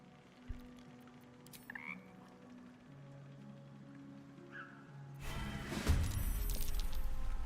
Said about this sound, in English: It shies away, croaking a warning, eyes wide in terror.